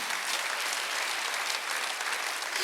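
A church congregation applauds during a Korean Sunday worship service. The clapping is sustained, dense and uniform, holding at an even level for the whole stretch.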